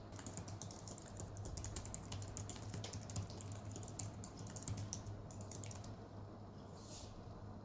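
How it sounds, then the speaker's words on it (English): Fingers type steadily on an Honor Choice keyboard paired with an Honor Pad V9 tablet, a quiet run of soft, rapid key clicks over a constant low hum, with no talking. "Let me just try typing something on the note."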